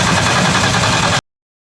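An RB30E+T engine cranks over in a loud, steady, dense mechanical churn that runs evenly for about a second before cutting off abruptly.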